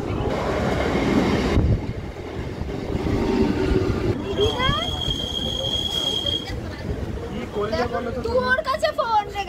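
A train rolls along the rails as it pulls into a station platform, with a rumbling clatter and high wheel squeals near the end. Voices talk over the train noise.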